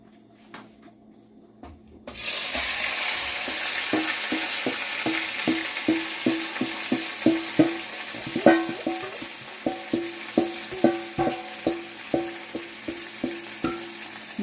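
Seasoned meat hits a hot pan with a sudden loud sizzle that continues steadily, followed by a run of regular scraping and clinking as it is stirred with a utensil.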